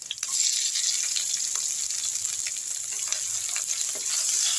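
Onions sauté in oil with curry leaves in a pan for a chayote kootu, a constant high crackling sizzle at moderate volume with faint occasional ticks.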